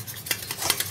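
Beaten eggs whisked in a bowl with a utensil make a quick run of light clinks and scrapes, close and brisk, lasting under a second.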